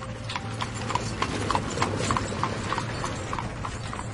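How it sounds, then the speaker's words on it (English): Horse hooves clip-clop in a steady galloping rhythm, close and clear. Each strike rings sharply over a low, constant hum. "the king put Alyssa on his horse and galloped away to his lovely castle"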